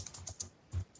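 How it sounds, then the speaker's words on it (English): Rapid, uneven keystrokes clatter on a computer keyboard, close and fairly quiet, with a heavier thump near the end of the short burst and no voices. "are you typing up an affidavit?"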